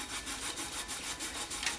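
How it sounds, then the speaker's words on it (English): Epoxy is scrubbed by hand off a stainless steel tumbler in quick, regular back-and-forth strokes. The rasping rub is close and fairly quiet, with no voices. "I just need to use a little grease, elbow grease, and rub that on off."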